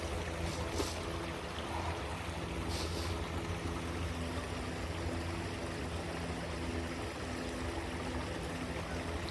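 A creek flows in the Ramble as a steady, continuous wash of running water that stays even and fairly close throughout, with no voices.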